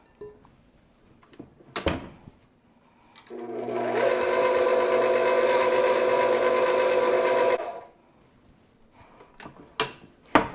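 A stand mixer with a paddle creaming butter and sugar for oatmeal raisin cookies whirs steadily for about four seconds, loud and close, framed by knocks and clatter before and after.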